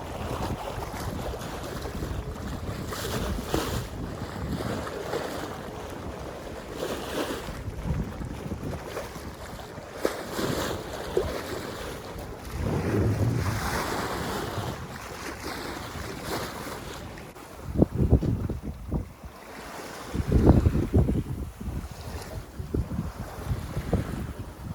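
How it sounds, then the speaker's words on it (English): Sailboat under sail near the Tuamotu atolls in the South Pacific, with steady wind buffeting the microphone, water rushing past the hull and a few louder wave splashes toward the end; no one speaks. "coming into the Tuamotus and having a lovely sail"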